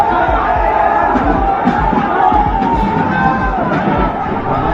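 A large crowd of hundreds shouts on a street at Turkman Gate in Delhi during a clash, a dense, continuous roar of many voices held at steady loudness throughout.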